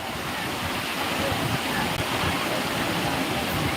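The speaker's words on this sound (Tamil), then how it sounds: "தண்ணி எப்படி வேகமாக மலையில மலையிலேருந்து கொட்டிக்கிட்டு இருக்கு" Continuous roar of water crashing down a mountain waterfall, dense and unbroken throughout, loud and fairly close.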